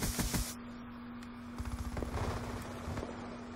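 Rapid video game gunfire in a trickshot match, bursts of quick shots in short clusters over a steady electronic hum, moderately loud with no voices.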